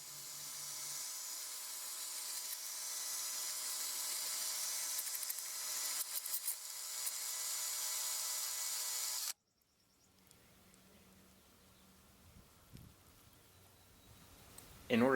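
A drill fitted with a 1/8 inch glass and tile bit bores into a glass bottle, its chuck wrapped in craft felt, giving a steady, loud high-pitched grinding whir for about nine seconds before dropping to quiet faint handling noises.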